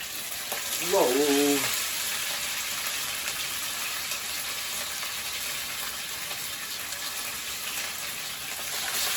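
Steady, hissing sizzle of salmon sumac patties frying in a hot pan, with a brief exclamation from a voice near the start.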